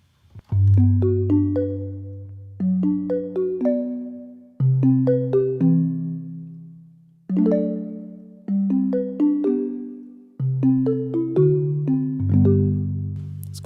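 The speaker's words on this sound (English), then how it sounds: "we've got the Thermos evolving pad and hits sound" A series of tuned metallic hits sampled from a thermos play a melodic pattern, each strike ringing out and decaying, struck in groups with brief pauses between.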